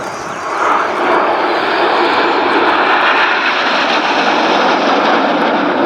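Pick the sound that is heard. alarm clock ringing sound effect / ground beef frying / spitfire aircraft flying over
spitfire aircraft flying over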